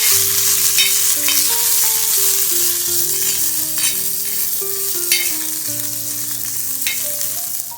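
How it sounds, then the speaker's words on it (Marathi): A large chopped onion fries in a pan, stirred until soft. A loud, continuous sizzle plays alone for the whole stretch, with periodic scraping strokes of a spoon. "तो कांदा आपण मऊ होईपर्यंत भाजून घ्यायचा आहे व्यवस्थित"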